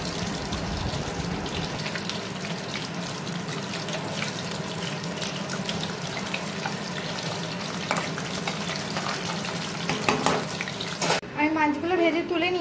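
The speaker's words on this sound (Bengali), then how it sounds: "প্রত্যেকটা মাছ আমি এরকম ভাবে ভেজে নিচ্ছি।" Parshe fish frying in a pan, a steady broadband sizzle running close and continuous through most of the clip, thinning out near the end as other kitchen sounds take over.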